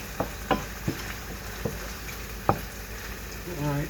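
Onions sizzling steadily in a pan for fish fried rice, with a spatula scraping and knocking at irregular intervals, close up and moderately loud, with no talking.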